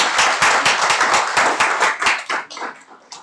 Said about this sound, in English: we need to give him another clap